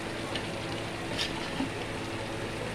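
Chicken for biryani cooks in a pot over low heat, giving off a soft, continuous sizzle and bubbling that stays even and fairly quiet throughout, with no voices.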